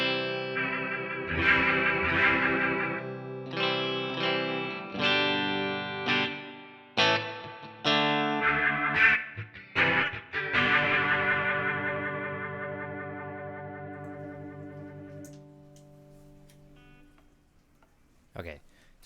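Guitar chords played through the rotary effect of a Line 6 HX Stomp, the swirling tone switched on and off between strums, ringing and decaying in short bursts before fading out near the end.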